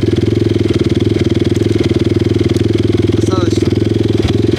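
An XMOTOS 150 pit bike engine idles up close, a steady loud rapid thumping with a constant low drone and no change in pace.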